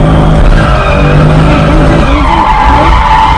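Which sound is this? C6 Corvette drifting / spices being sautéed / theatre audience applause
C6 Corvette drifting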